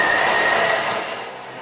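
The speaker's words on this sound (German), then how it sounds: "Das Ganze pürieren wir jetzt 2 Minuten auf der höchsten Stufe," A Thermomix blends a blueberry smoothie at its top speed, producing a loud, steady mechanical whirr that eases off slightly toward the end.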